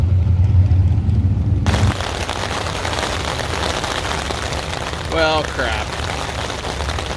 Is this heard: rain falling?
yes